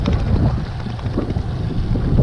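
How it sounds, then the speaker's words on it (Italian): Strong wind buffets the microphone of a cyclist riding toward Orio al Serio, a steady low, rumbling roar that runs unbroken and fairly loud throughout with no voices. "sto andando col vento a favore"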